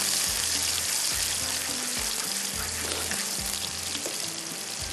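Onions sizzle and fry to brown in a pan, a loud steady crackling hiss with occasional stirring thuds and no talk.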